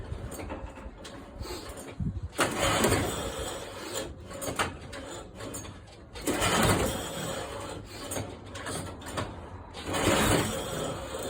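A small red moped is being cold-started, apparently without the choke on, and fails to fire: three loud bursts of rasping mechanical cranking churn close by, separated by quieter pauses.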